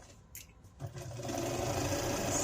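A sewing machine stitching a pillow cover, starting quietly after a few faint handling sounds, then whirring in a steady, even, moderately close run that holds to the end.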